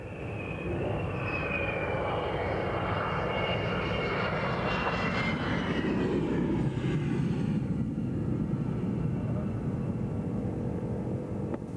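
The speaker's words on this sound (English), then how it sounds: "And reluctantly, they bring the F-16s back to Earth." Several F-16 fighter jets come in to land after an air show, a loud continuous jet engine roar that holds steady throughout, with the high whine easing and shifting partway through.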